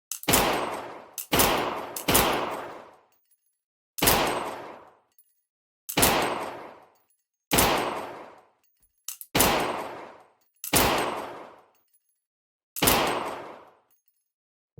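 M9 pistol shots in a VR shooting game ring out as about ten loud, sharp single reports with ringing tails, spaced irregularly with gaps of silence between them, with no talking.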